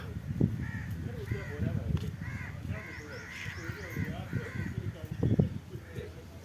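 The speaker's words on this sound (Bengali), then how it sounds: "এই তো বাংলাদেশের কাক" Crows caw repeatedly in Riyam Park in Muttrah, Muscat, Oman, with harsh calls overlapping at moderate distance while people talk nearby.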